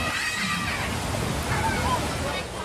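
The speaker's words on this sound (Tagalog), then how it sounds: "Nagmistulang ilog ang paana ng mambaling flyover sa N. Nabalso Avenue sa lungsod ng Cebu dahil sa malakas na pag-ulan kahapon" Knee-deep floodwater sloshing and rushing beneath a flyover on a Cebu avenue after heavy rain, a steady broad wash of water with a murmur of voices and street noise mixed in.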